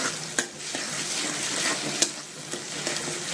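Spice masala sautéing in a pan with raisins and cashews stirred in, a dense sizzle punctuated by quick spoon scrapes and clacks against the pan.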